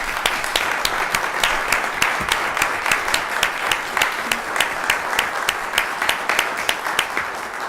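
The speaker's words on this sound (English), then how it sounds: "Let's please give you all a round of applause." Steady applause from an audience honoring veterans at a city council meeting in Midwest City, Oklahoma, with sharp individual claps standing out over a dense, even wash of clapping that holds for the whole stretch.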